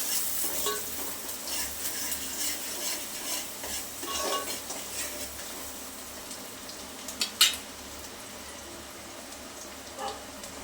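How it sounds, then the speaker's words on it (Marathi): Chopped onion fries in a pan for Kolhapuri misal with a continuous close sizzle and repeated scraping stirs, then a couple of sharper metallic clinks of a spoon near the end, with no voices. "कांदा आपल्याला छान गुलाबी रंगावर परतून घ्यायचं"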